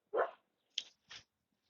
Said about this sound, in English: the dogs are barking. Oh, she's barking.